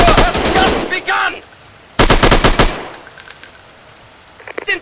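Bursts of rapid automatic gunfire from a sniper shooting video game, a dense rattling volley at the start and another about two seconds in, loud and close, with quieter gaps between them.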